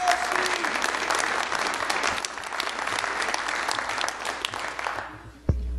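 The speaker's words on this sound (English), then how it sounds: "please let's give him a big round of applause" Steady, full applause from an audience at a public forum on Itron smart meters fills the room for about five seconds, then fades out with a single thump at the end.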